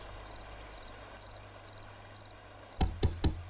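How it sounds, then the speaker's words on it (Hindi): Three loud knocks on a door land close together near the end, in a film scene, after a faint repeating chirp over a low hum. "सैफुद्दीन दरवाजा खोलो।"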